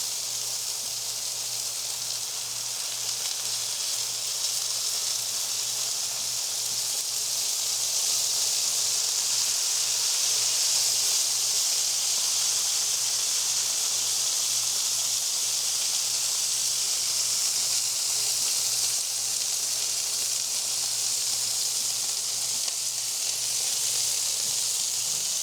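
Butterflied chicken with garlic butter sizzles on a Blackstone griddle, a steady, bright, even hiss that holds for the whole stretch with no talk over it.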